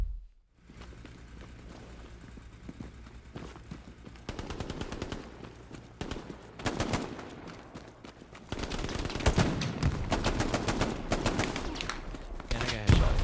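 Rapid bursts of rifle and machine-gun fire in the WWII shooter Hell Let Loose, sustained volleys building louder toward the end, with a voice talking underneath the battle noise.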